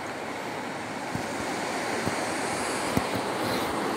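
A river in a rocky gorge beneath a bridge near Majuwa Bazaar rushes in a steady, broad wash of water noise, with a few soft low thumps over the constant flow and no voices.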